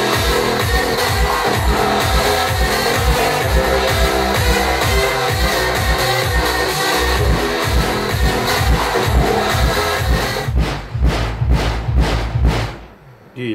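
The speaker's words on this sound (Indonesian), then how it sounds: "Kita nyalakan subwoofernya sekarang ya." Loud music through an Ashley PRX 7000S power mixer with the subwoofer switched on, heavy rhythmic bass thumps pounding under a dense mix, then a few sharp hits as the track drops out at the end.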